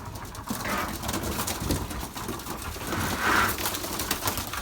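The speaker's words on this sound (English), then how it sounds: "So it looks like we got about, I don't know, 15 birds in here." Soft cooing from about 15 pigeons in a loft rises and falls over a steady noisy background, the birds murmuring together in the enclosed space.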